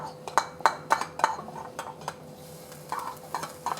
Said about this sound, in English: And then I'm gonna add my garlic.